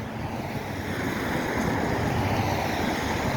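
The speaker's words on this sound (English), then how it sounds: "It's fast moving water too." The fast-moving water of the Neponset River rushes in a steady, broadband roar, loud and continuous, with some wind buffeting the microphone and no voices.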